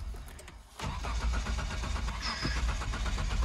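A 2020 Ford F-150 EcoBoost engine cranks hard and fails to catch, a loud, steady mechanical churn that kicks in suddenly after a brief quiet moment and continues without firing into a clean idle.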